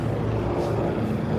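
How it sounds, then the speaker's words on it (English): A helicopter flies close overhead a cold New York City street near 9th Avenue and Chelsea Market, its steady low rotor and engine drone loud and continuous throughout. "That's a helicopter. It's really, really close."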